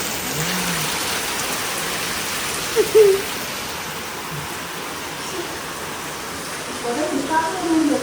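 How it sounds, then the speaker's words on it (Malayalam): Heavy evening rain falls steadily around a house in Kerala, a constant even hiss with a few brief voices and small sounds breaking through. "മഴ എങ്ങനെയുണ്ട്"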